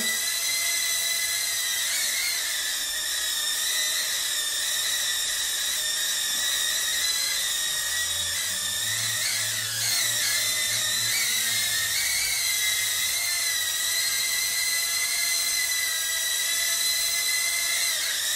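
Tiny motors of an Eachine E012 nano whoop drone at full throttle, a piercing high whine held steadily close by, its pitch wavering slightly midway.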